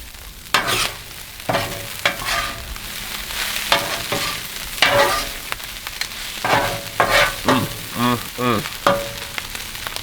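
Corn frying in bacon fat on a Blackstone flat-top griddle, a loud close sizzle with busy scraping and stirring strokes of a spatula in irregular bursts.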